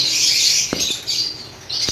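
Small chirps and rustling wing flaps from lovebirds inside an aviary, with a steady bright hiss of bird calls in the background and a couple of sharp close taps or flutters.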